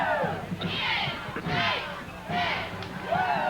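A high school football crowd in a stadium lets out rising "woo" cheers in several swells, loud and spread out, with murmur and voices between the shouts.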